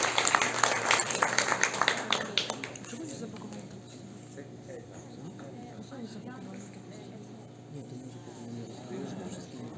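A school audience applauds presenters at a Konak BİLSEM event in İzmir, a busy burst of clapping that fades after about two and a half seconds into quiet room murmur and faint chatter.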